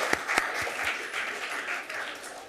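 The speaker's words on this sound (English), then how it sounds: "I know you guys wanted to clap after that national anthem." Audience at a city council meeting breaks into applause after the national anthem, with a couple of sharp early claps swelling into a steady, fairly loud wash of clapping that carries through to the end.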